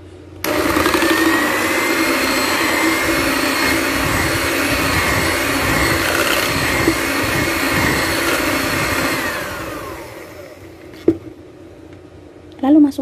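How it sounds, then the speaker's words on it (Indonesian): An electric mixer whisks cake batter with oil in a home kitchen, a steady loud whirring drone held for about ten seconds before cutting off, followed by a couple of faint clicks. "ini dikocok sebentar"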